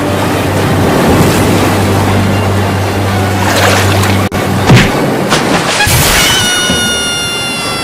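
A boat moves through village flood water, with a steady low rumbling hum and a continuous wash of water and wind, all fairly loud and close, with no talking.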